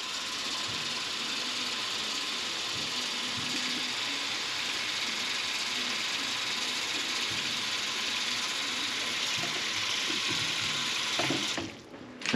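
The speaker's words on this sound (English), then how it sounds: "fill this up with water." Water runs steadily from a kitchen tap into a container, a constant close rushing hiss that continues for about twelve seconds before a brief dip and clatter at the end.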